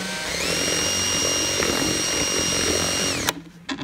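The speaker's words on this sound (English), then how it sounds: "drill a hole through here" Power drill boring a hole while building a homemade plasma gun: a loud, steady motor whine that holds for about three seconds, then winds down and cuts off, followed by a few small knocks.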